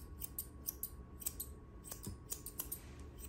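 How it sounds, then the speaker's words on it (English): Scissors snip through matted fur on a Maltipoo dog during grooming, giving a quick run of crisp, close metallic cuts at an uneven rhythm over a low room hum. "I'm gonna go in with the scissors where she has these mats"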